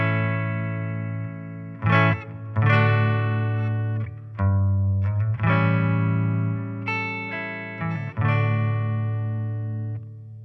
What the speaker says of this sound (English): The next effect, you'll see there, reverb green, it's the hall reverb.